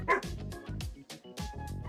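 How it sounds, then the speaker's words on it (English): A pet dog, upset by a cat standing in the corner of a hallway, barks sharply indoors, about five or six loud, close woofs in a quick uneven series. "My dog did not like my cat standing in the corner of the hall."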